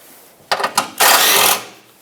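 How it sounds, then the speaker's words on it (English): A socket ratchet loosening the two 10mm bolts that hold the side plastic trim pieces under a 2012-2021 Mazda 6: two short, close bursts of clicking, then a longer steady run of ratcheting. "let's remove these 2 10mm bolts that hold the side plastic pieces on"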